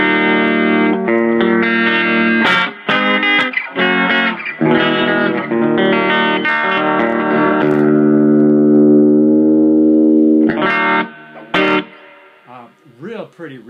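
Clean electric guitar through an Acoustic G60T tube amp with reverb, ringing chords and single notes that swell and sustain with a lush tail, played alone at moderate loudness with a brief pause near the end.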